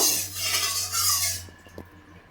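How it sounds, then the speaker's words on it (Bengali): Hot oil in a pan stirred while cooking curd chicken, with a steady close hiss for about a second and a half, then fading into a few light metal utensil taps. "তেলটা ভালোভাবে গরম হয়ে গেছে, আমি একটু নাড়িয়ে নেব"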